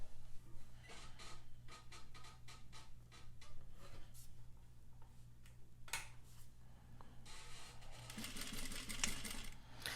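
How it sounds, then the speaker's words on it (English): Sewing machine stitching a 1/2 inch seam at regular stitch length on box pleat fabric, starting with a quick back stitch; steady mechanical whirring in repeated bursts with a constant low hum underneath, close and fairly loud. "I'm going to sew at a 1/2 inch seam allowance using our regular stitch length."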